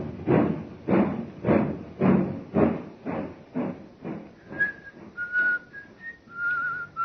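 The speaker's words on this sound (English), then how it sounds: "He's whistling merrily" A man walks up a train platform with heavy, evenly paced footsteps, then whistles a bright, merry tune in short, clear notes toward the end, close and with no talk.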